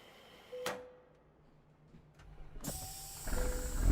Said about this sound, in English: Let's fuel up.